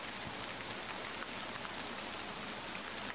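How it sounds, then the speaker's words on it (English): Steady, dense rainfall in an animated story, a continuous even hiss of drops spattering on surfaces with no pauses and no voices over it. "It's starting to rain."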